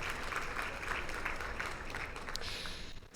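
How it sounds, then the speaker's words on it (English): A steady round of clapping fills the hall from the audience at a FIFA Women's Football Symposium, many hands beating at an even level before easing slightly at the end. "A round of applause for all of our special guests making it today."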